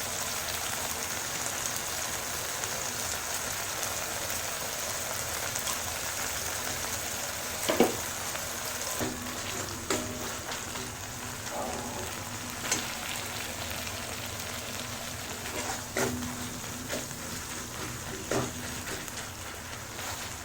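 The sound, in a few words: tomato and masala frying in a pan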